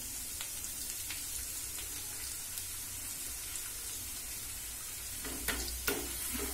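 Spice paste mixed with sour yogurt fries in a pan for a white paneer curry, giving a steady close sizzle with a few scraping stirs near the end.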